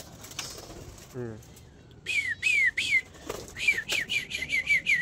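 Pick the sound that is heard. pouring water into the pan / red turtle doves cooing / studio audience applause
red turtle doves cooing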